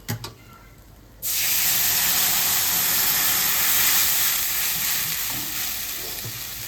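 Water poured into a hot pan for a Bengali fish curry bursts into a loud, steady sizzling hiss after a quiet second, holding strong and close before easing slightly toward the end.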